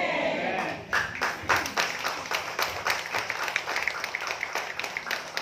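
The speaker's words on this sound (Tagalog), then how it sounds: "Grabe po yung palakpak niyo sa Lord." A church congregation applauds, many hands clapping at first and then settling into a sparser, uneven patter from a mid-distance.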